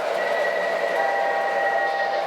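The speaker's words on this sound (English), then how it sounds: "Now that's our third train that's running" A steady rolling rumble with a faint whining tone runs throughout, close and even, as an MTH model locomotive runs continuously along a track loop.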